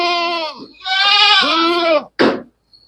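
A ram goat on a farm gives two long, loud, wavering bleats close by, followed by a short harsh call, with a faint high tone at the end.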